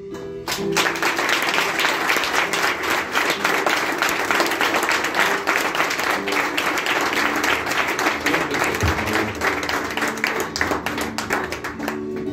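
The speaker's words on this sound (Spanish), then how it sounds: "Con un fuerte aplauso" Dense, sustained audience applause at an anniversary commemoration of a recovery-program group, steady and loud for about twelve seconds with a crowd clapping together and faint voices mixed in.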